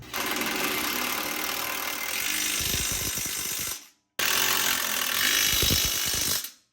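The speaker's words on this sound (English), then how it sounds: "Take your new hardware with an 18 mil and a 3/4. Tighten up these guys on the bottom." A ratchet wrench tightens bolts on a truck's Bilstein leveling kit, two long runs of rapid, even clicking, close and loud, separated by a brief pause.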